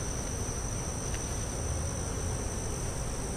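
A continuous close hum of honey bees from an opened hive in a new bee yard, steady and unbroken for a few seconds, with no voices.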